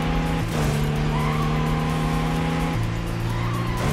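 In a racing video game, a car drifts with a sustained loud tire squeal over a steady engine drone, its pitch dropping briefly partway through as the slide continues.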